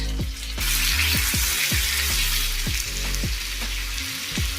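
Ginger-garlic paste fries in a hot pan with onions, giving a continuous close sizzle broken by repeated stirring scrapes at an even rhythm, with no voices, while cooking Bengali potol chingri.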